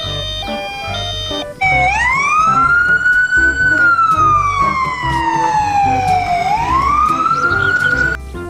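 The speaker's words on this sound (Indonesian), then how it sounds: "Di sini ada mobil ambulan." A toy ambulance's electronic siren wails loudly, with a few short beeping tones first and then a long rising-and-falling sweep that dominates the scene up close.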